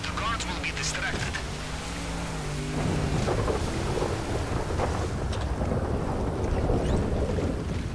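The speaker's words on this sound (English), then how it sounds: "We were lucky with the storm." Stormy weather in the GTA Online Cayo Perico heist, with rain, rumbling thunder and sea noise forming a steady, loud wash that swells after a few seconds, while voices talk over the first part.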